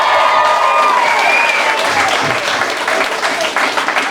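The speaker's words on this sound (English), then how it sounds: "so let's start it all with a big cheer" An audience at a music talent event in Ockram cheers and applauds, a dense, loud, sustained wash of clapping and crowd noise throughout.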